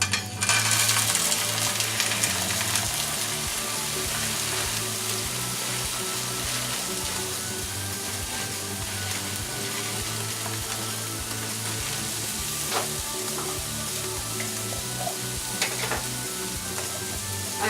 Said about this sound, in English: I am now going to go ahead and add my classic peas and carrots.